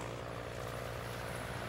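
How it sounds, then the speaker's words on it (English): A low, steady engine drone hums continuously, like an aircraft passing at a distance, with no other sounds. "I hear an airplane flying high in the sky."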